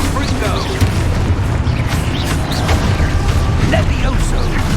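A Confringo spell blast goes off during Hogwarts Legacy combat: a dense, loud rumbling burst with crackling debris, surrounded by other spell effects and continuous battle noise.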